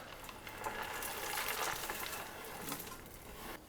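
Chocolate chips slowly mixed into cookie dough, a soft, muffled, continuous rustling and squishing that swells in the middle and fades, close and quiet.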